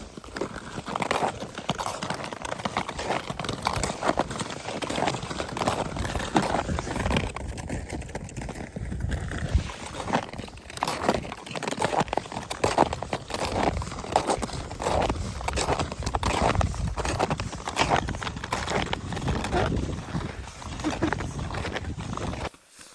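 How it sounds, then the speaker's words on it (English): Crusty ice and snow crunch underfoot in an Arctic wilderness, a steady run of rhythmic crunching steps up close, fairly loud and continuous with no talk. "Here I will let you enjoy the sound, the crusty ice and snow mixed together."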